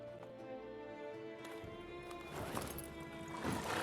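Horse hooves clip-clop in The Witcher 3, with a horse whinnying over a steady bed of game music and ambience; the hoofbeats grow louder and busier toward the end, and no one speaks.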